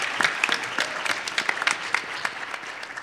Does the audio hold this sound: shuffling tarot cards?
no